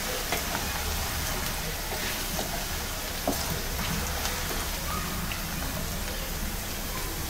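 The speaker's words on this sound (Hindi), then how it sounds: "और इनको हम 2 से 3 मिनट के लिए मीडियम फ्लेम पर फ्राई करते हैं" Potatoes frying in a pan over a medium flame give off a steady, dense sizzle with faint crackles, even in level throughout and with no voices.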